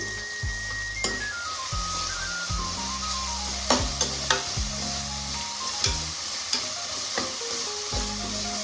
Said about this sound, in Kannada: ಚೆನ್ನಾಗಿ ಫ್ರೈ ಮಾಡ್ಕೊಳ್ಳಿ ಈರುಳ್ಳಿ ಮತ್ತು ಟೊಮೊಟೊ ಎಲ್ಲ ಚೆನ್ನಾಗಿ ಬೇಯಬೇಕು